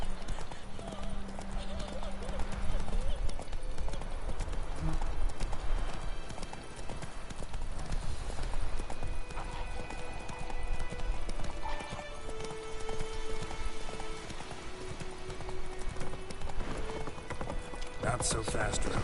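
A horse gallops through a Witcher 3 video game scene, its hooves clip-clopping in a steady fast rhythm throughout, mixed with game music and ambience while someone speaks over it.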